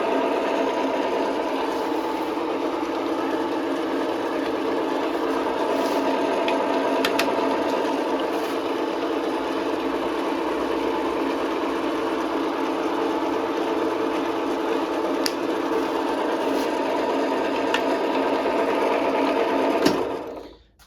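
A TV-4 metal lathe runs at a steady speed, a close continuous mechanical whir with a humming drone and occasional faint clicks for about twenty seconds before it shuts off.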